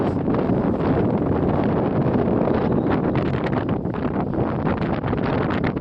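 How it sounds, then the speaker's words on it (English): Strong, steady wind roars across the microphone at the open summit of Noitatunturi (Witch Fell) in Pyhä, Lapland, a continuous loud buffeting rush with no let-up and no voices. "the wind definitely picked up as I reached the peak of the Noitatunturi"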